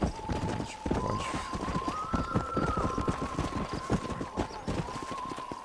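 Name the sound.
horse galloping in video game Red Dead Redemption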